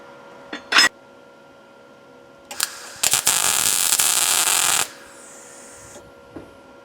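Tack welds go onto steel parts of a lawn trailer with a powered dump bed: a short crackling burst, a pause, then a couple of quick zaps and one longer buzzing weld of nearly two seconds, in an otherwise quiet shop.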